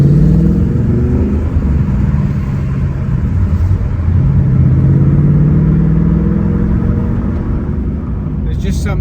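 A Ford Mustang Mach 1 with a Coyote V8 and Tremec manual gearbox revs and pulls loudly and steadily throughout, its engine note rising and falling close by, with a brief burst of speech near the end.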